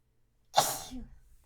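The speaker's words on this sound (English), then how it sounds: "I'm gonna sneeze again." One abrupt, close sneeze, a quick explosive burst that fades into a short breathy trail.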